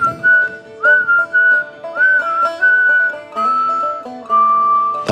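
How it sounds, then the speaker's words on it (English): Loud, clear whistling by mouth, a series of sustained pitched notes rising and falling in short melodic phrases with brief breaths between them, close and alone with no talk. "I had to learn to whistle, a loud whistle."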